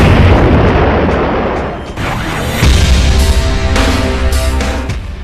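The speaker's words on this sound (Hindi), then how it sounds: "रूस की ओर से रॉकेट लॉन्चर से भारी बमबारी की गई।" Rocket-launcher bombardment and artillery shelling in the war in Donetsk, Ukraine, with heavy booms and bursts rolling over a dense, loud rumbling din and several sharp impacts near the end, with no talking.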